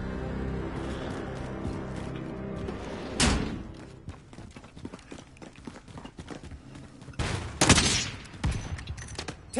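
Bursts of rapid video game gunfire, loud and close, with sharp volleys and thuds, punctuated by two heavier blasts amid running footsteps.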